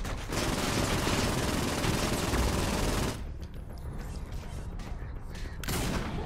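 Rapid bursts of gunfire from the video game Saints Row IV rattle loud and dense for about three seconds, then drop to quieter scattered shots and background action.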